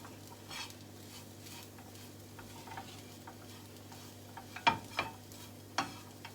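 Chicken patty mixture with black pepper being mixed by hand in a bowl, soft squishing and stirring with a few sharper utensil clinks near the end, close and fairly quiet.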